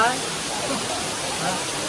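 Water rushing and splashing at Akasaganga falls in Tirumala, a steady broadband roar, close and continuous, with a faint voice at the very start.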